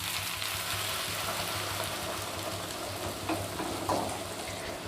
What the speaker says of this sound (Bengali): এবার ওর মধ্যে দিয়ে দিচ্ছি আমি গরম জল।